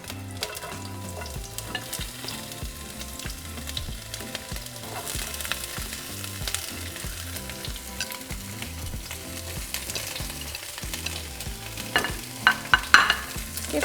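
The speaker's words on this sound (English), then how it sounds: "once the oil is nice and hot, we're going to throw in our Anaheim pepper and our purple onion." Strips of Anaheim pepper and purple onion frying in hot oil in a pan for crispy shredded beef tacos, giving a steady close sizzle with stirring scrapes and a few louder crackles near the end.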